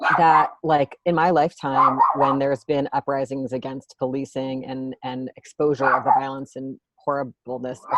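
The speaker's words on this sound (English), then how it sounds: "So sorry about my dog." A pet dog barks and yips at home beneath a person's continuous, close, steady speech, with the barking mostly masked by the talking.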